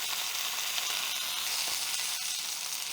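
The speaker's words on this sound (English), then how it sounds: "we just want to take one extra step and sear the fat cap" A ribeye steak's fat cap sears in a hot skillet, giving a loud, steady, close sizzle and crackle of rendering fat that runs continuously with no talk.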